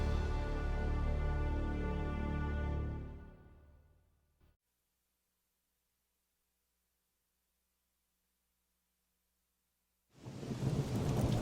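Loud steady rain with deep thunder rolls fills the opening seconds, fading into near silence before the downpour returns abruptly and loud at the end, setting a stormy March day in 1845 Washington.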